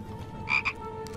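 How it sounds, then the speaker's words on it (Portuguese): A magical chocolate frog from a Harry Potter film croaks twice in quick succession, a short clear croak followed by a briefer one, heard up close over a low steady hum with no talk. "É um sapo de verdade?"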